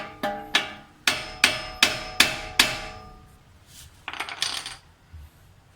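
A hammer knocks out a car part, striking metal seven times in quick succession, each hit ringing with a bright metallic tone, followed by some softer clattering.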